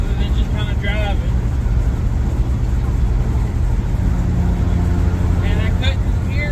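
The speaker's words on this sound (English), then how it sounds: "as you can hear, I've got my 2 rear windows cracked, trying to help circulate some air." Loud, steady wind roar rushes through the cracked rear windows of a Freightliner Cascadia truck while it drives, a constant broadband buffeting close to the mic, with faint higher whines and squeaks near the start and end.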